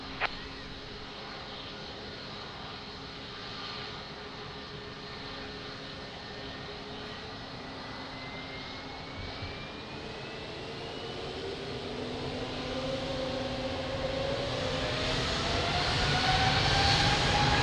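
An airliner takes off from runway 02 at Lisbon Airport, its jet engines starting as a faint distant hum and swelling steadily louder as the rising whine builds over the roll, with no voices in between.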